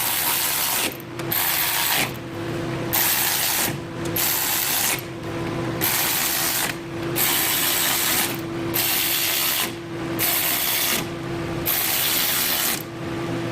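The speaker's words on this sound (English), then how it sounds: "We're tightening the cover bolts." Ratchet wrench tightening the differential cover bolts on a 2004 Ford E150 van, rapid clicking in repeated bursts with short pauses between strokes, close and loud, no talk.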